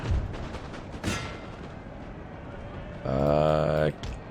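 Cannons loosing canister shot in the Napoleon: Total War strategy game, a sharp distant boom near the start and a brief burst of fire near the end over a battlefield din, with a faint harmonic tone at the end.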